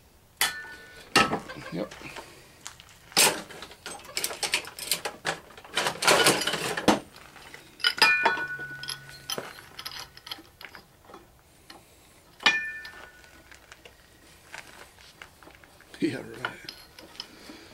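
Metal pipe wrench clanking and rattling against tools and parts while changing a U-joint, intermittent sharp clinks and scrapes close by, with brief talk in between.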